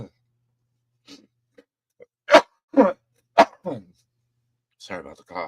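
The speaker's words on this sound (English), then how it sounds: "Sorry about the cough." A person coughs and clears their throat in a quiet room, several short, sharp bursts spaced a second or so apart, close and fairly loud against silence.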